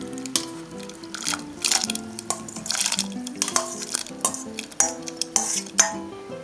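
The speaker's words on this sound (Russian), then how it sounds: "Выкладываем наши грибочки." Champignon mushrooms tumble into a pot of boiling marinade, with close clattering of a utensil against the pot and wet stirring and splashing in irregular bursts.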